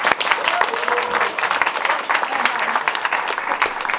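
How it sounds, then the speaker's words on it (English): Audience at a film festival high school session applauding, a dense, loud burst of many hands clapping that continues steadily for several seconds. "Let's give it one more round of applause."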